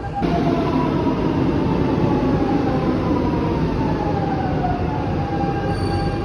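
Loud, steady rumble of a Lisbon subway train in motion, with rushing wheel noise and faint rising whines of wheels on track throughout.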